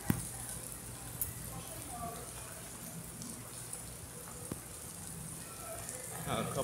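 Rain patters steadily on a New York street, a dense hiss with scattered drop ticks and faint traffic noise, and quiet talk nearby.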